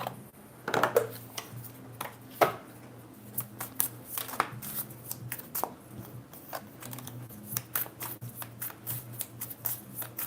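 Tarot cards riffled and shuffled by hand at a reading table, a run of sharp papery flicks and snaps, some in quick bursts, close and fairly quiet over a low steady hum.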